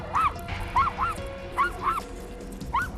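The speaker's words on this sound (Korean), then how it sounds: "사람이 보이기만 해도 심하게 짖었는데요." A dog named Janggun barks aggressively at people outdoors, giving six sharp, mid-pitched yelping barks in uneven pairs and singles over a quiet background, with no talking.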